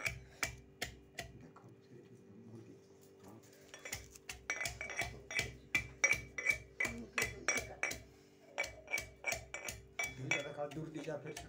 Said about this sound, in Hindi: ये लहसुन को हेमदस्ता में हम प्रेस कर रहे हैं, छेच रहे हैं